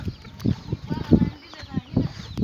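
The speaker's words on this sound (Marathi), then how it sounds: "कोंबड्यांचा कालवा पक्ष्यांचा कालवा" Village chickens cluck in a quick series of short, close clucks that come in uneven bursts, with some voices faintly in the background.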